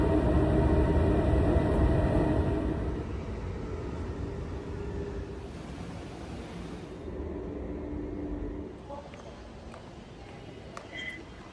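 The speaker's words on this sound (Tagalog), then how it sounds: "MRT na pala ako, guys." Ride aboard an MRT metro train on a rainy day, a steady low rumble and rolling hum that eases slightly after the first few seconds, with a few faint clicks and squeaks near the end and no talking.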